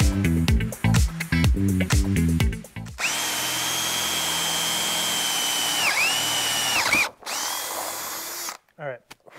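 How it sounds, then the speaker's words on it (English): A power drill with a half-inch bit drills into boat gel coat, first in short bursts and then in one long, loud, steady whine that dips briefly before stopping. "We're going to go in reverse first to get through that gel coat, and then we'll go the rest of the way through forward."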